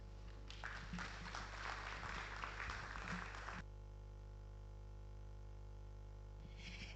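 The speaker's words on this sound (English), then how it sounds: "Let's give him another round of applause." An audience at a public lecture in Ghana claps for about three seconds, a dense close patter of hands that stops abruptly, leaving only a steady electrical hum.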